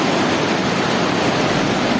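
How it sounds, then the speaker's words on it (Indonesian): Cilaki River running high and rushing in heavy rain, a dense, steady roar of churning water that fills the scene, loud and unbroken with no voices. "Sungai Cilaki lagi ngamuk."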